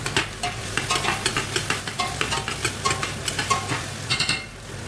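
Garlic sizzles in hot oil in a pan for chicken sotanghon soup, a close, steady frying hiss with rapid rhythmic scraping of a spatula stirring throughout.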